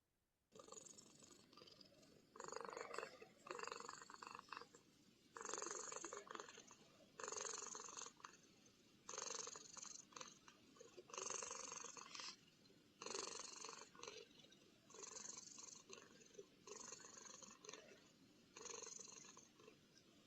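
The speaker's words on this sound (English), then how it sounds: "If only all of the lectures could be a purring cat instead of listening to me talk." A cat purrs close and quietly in rhythmic bursts, each breath cycle a soft rumbling pulse separated by short pauses, repeating steadily about ten times.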